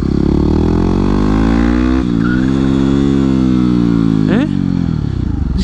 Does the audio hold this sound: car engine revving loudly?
yes